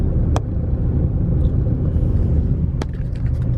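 A car drives through Richmond Park, heard from inside the cabin as a steady, loud low rumble of engine and road noise, with a couple of brief clicks or knocks over it and no speech.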